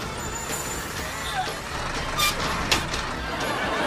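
A school bus comes to a stop with air brakes, giving short bursts of hiss over steady broadband engine and road noise.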